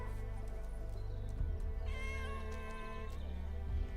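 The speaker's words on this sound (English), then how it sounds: "Oh, look at the cat, the howler beast." A howler beast creature in the video game Arknights Endfield gives drawn-out, cat-like meows over steady game music and ambient hum, rising and wavering for a couple of seconds.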